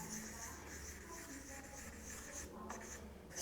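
A teacher writes a word by hand on a sheet of paper during a Portuguese lesson. The quiet, close scratching of the writing strokes runs continuously, with a slight rustle near the end and no speech.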